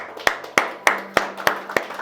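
A church congregation clapping together in a steady, regular beat, sharp evenly spaced claps about three per second that ring slightly in the room.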